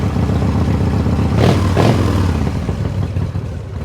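A Harley motorcycle engine running loud and close, giving two quick throttle blips that swell and fall back before it settles into a steady, slightly uneven idle, with no talking.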